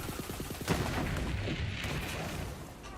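Flakker gun fire in the video game Borderlands 3 comes as a burst of rapid booming shots followed by a sustained rumbling explosion wash, moderately loud with no talk over it.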